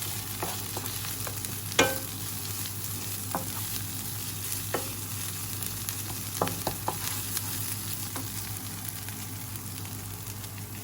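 Red curry paste stir-fried in a hot pan, a steady close sizzle with sporadic sharp scrapes and taps of the spatula, no talking.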